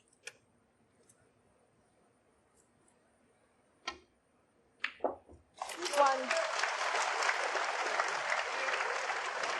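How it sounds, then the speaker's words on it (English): Ronnie O'Sullivan's supporters burst into a big cheer and applause at a snooker semi-final in Shanghai after a few quiet ball clicks, the crowd noise rising suddenly and holding loud to the end. "And you can hear the big cheer from his supporters."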